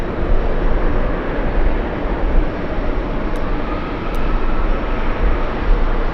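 A low, loud roar from an airplane approaching JFK airport rumbles continuously like a passing train, with a couple of faint high clicks partway through.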